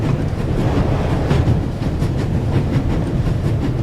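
A train runs at full speed in the video game The Raven Remastered, a loud, continuous rumbling roar with rhythmic clattering of wheels on rails and a rushing wind-like hiss, with no talk.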